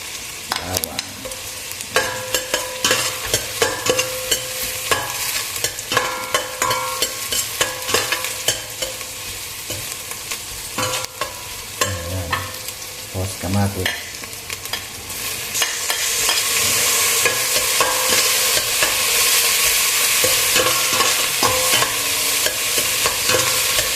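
Garlic and tomato sauté in a pan for a Filipino mung bean stew, giving a continuous sizzle with frequent stirring and scraping clinks, the frying growing louder and denser toward the end.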